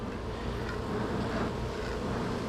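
Agitated honey bees drone steadily inside a hive box, a dense, continuous buzz at moderate volume that holds without breaks.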